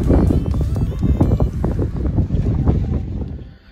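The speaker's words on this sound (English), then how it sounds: "as you can hear, it is a windy day" Strong gusting wind at South Lime Lake on the Falling Waters Trail buffets the microphone with a low, rumbling roar that fades near the end.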